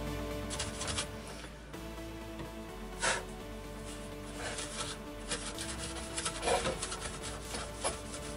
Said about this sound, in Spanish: Este del estropajo aguanta bien, la parte de la esponja también se está deshaciendo.